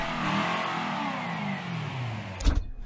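Manta prototype car from Mafia Definitive Edition revving its engine, a steady rising drone with a sharp louder burst near the end.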